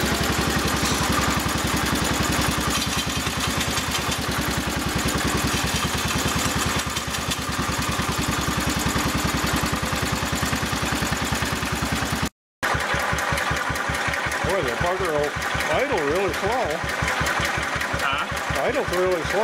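A golf cart engine idles slowly and unevenly with a steady low putter, loud and near, and a brief cut partway through, followed by a rougher idle with faint background noise.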